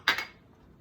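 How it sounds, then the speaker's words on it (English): Utensils clink twice against a bowl while seafood is lightly tossed with olive oil, salt and pepper, two quick close metallic taps fading into quiet. "And lightly mix"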